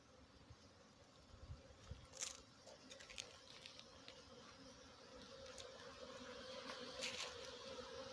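A few bees working over honey frames laid out in the open make a faint, uneven buzz, with soft ticks and light pattering against a quiet outdoor background.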